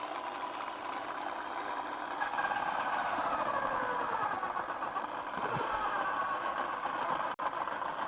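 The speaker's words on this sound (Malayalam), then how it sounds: "നല്ല അടിപൊളിയായിട്ട് ചിരകുന്നുണ്ട് കേട്ടോ ഗൈസ്" A homemade automatic coconut scraper with adjustable speed runs steadily, its motor whining and buzzing close by as it grates coconut, with a brief dip near the end.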